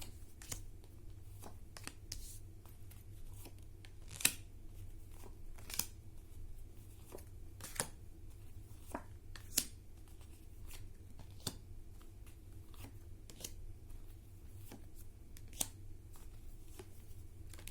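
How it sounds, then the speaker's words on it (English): Tarot cards being shuffled and pulled in a quiet room, a series of soft, crisp flicks and slaps scattered irregularly over a low steady hum, with a few sharper snaps. "I'm pulling cards for Taurus."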